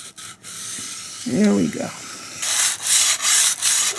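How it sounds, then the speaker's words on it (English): Hand sanding into a wooden groove with a small rolled piece of 220-grit sandpaper: soft, rapid back-and-forth rasping strokes, close and steady. A person briefly speaks near the start. "Now I'm going to sand where I couldn't get with the sander."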